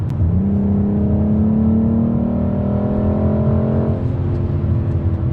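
A BMW M440i G22 accelerates hard nearby, its engine note rising steadily in pitch through a long pull of several seconds before easing off, with a continuous road roar underneath.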